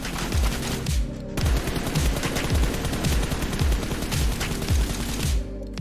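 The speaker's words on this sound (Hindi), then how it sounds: "जैसे ही तुम्हारी गन में 10 के अराउंड बुलेट्स बचती है तो ये अलग तरह की एक आवाज करने लगती है" A rapid burst of automatic gunfire from a mobile shooter game runs almost continuously, with a distinct altered low-ammo tone in the shots, loud and dense with a brief break near the start.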